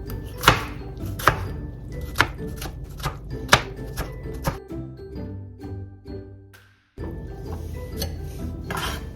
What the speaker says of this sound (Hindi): टमाटर के भी आप इस तरह से बारीक बारीक काट लें